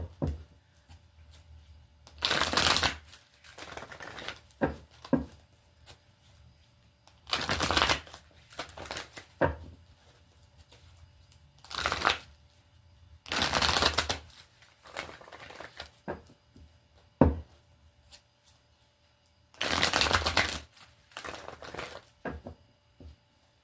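Tarot cards are shuffled in several separate bursts of riffling and sliding, each lasting a second or two, with quiet pauses between them, close and fairly soft.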